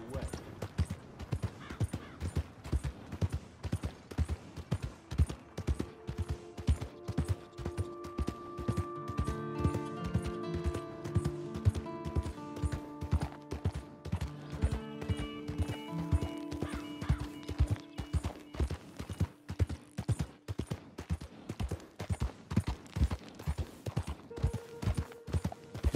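Horse hooves clip-clopping at a steady walking rhythm in Red Dead Redemption II, the regular beats continuing throughout while a melodic music line plays faintly beneath; no voices.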